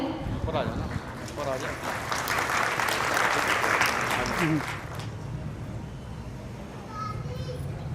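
A crowd applauds steadily to welcome a guest at a grandparents' meet event, a loud sustained clapping that eases off midway, with children's voices mixed through the noise.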